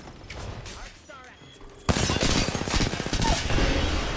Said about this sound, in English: Charge rifle in the distance.